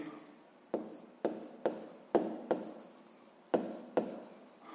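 Handwriting on paper during a fifth-grade maths exercise, quiet close scratches and taps of the pen arriving as about eight separate strokes in an uneven rhythm.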